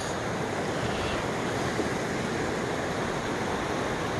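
A steady, dense roar of rushing river water fills the scene, loud and continuous without pause, like a swollen river flowing close by, in Jalapa, Guatemala.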